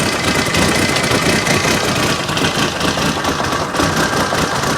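An engine in a cogeneration unit runs roughly and unevenly, close and loud, with a steady churning drone and irregular knocking pulses throughout.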